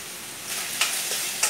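Chilli powder, turmeric and salt are stirred into vegetables for navarathan kurma, with soft sizzling in the pan and a few short spoon scrapes rising over it, no voices.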